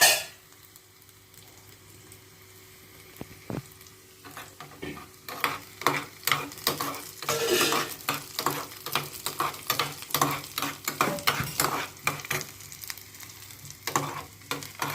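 Garlic roasting in a pan for garlic powder, a quiet low sizzle that builds into repeated scraping stirs, a rapid run of close strokes over the steady frying hiss.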